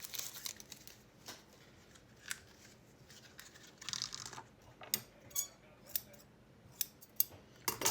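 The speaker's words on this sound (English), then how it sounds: "We'll cut a little off" Scissors snipping crochet lace close up, with quiet sharp clicks and short cuts repeating irregularly, faint paper-like rustling between them.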